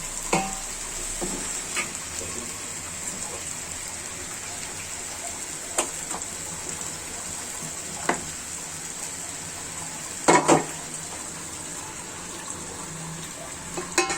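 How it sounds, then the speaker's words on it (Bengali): Spice masala fries in a pan while beef is cooked, a steady soft sizzle running throughout, broken by occasional scrapes and clinks of stirring, with no talk. "মশলাটা আগে ভাজা হতে হবে তখন আর মশলার কাঁচা গন্ধ থাকবে না"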